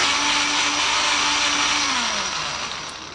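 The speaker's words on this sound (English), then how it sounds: "we grab some tissue, some ordinary spinach, and add it to a household blender." A household blender whirs steadily while blending ordinary spinach, a loud continuous motor drone whose pitch drops slightly as it winds down.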